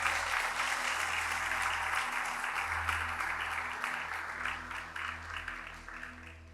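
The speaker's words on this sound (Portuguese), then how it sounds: "aplaude bem forte o Senhor." A church congregation breaks into sustained applause, a dense wash of many hands clapping at steady strength that slowly fades, with a low hum beneath.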